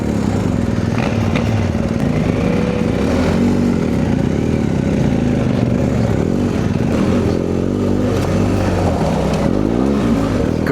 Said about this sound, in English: we're switching bikes here to let Josh get a impression of the CF Moto with the good tires